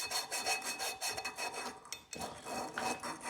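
Golf cart cylinder head valve seats lapped by hand with grinding paste, a close rhythmic raspy scraping in quick back-and-forth strokes, roughly a dozen passes, with no talk.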